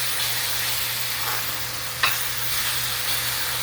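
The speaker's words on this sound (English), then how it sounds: "we're getting the saute ready that eventually we will add the chickpeas to it" Onions and spices sizzle in a pan as a saute for Punjabi-style chickpea curry, a steady close frying hiss with light stirring scrapes and one brief clatter.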